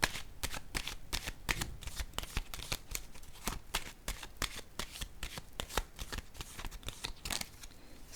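Tarot cards shuffled steadily by hand, a dense run of quick riffling slaps and soft card-on-card taps, close and quiet, with no talking.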